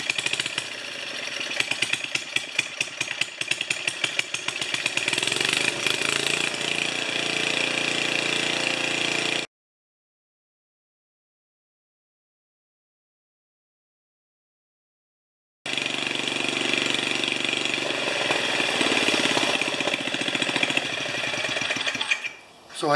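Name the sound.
4HP Ariens snowblower engine running with new carburetor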